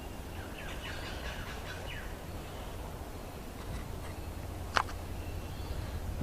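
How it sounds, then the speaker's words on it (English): Small birds call in a home garden at Narooma, a few quick chirps early on and one sharp, louder call near the end over a faint steady background hum. "The birds love it here."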